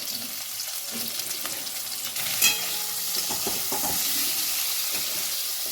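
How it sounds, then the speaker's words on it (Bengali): Mango pieces frying in a mustard-seed tempering for chutney, a steady close sizzle in the pan with a sharp clatter as they go in, followed by stirring and scraping noises. "সর্ষে ফোড়ন দিয়েছি এর মধ্যে আমগুলো আমি দিয়ে দিচ্ছি"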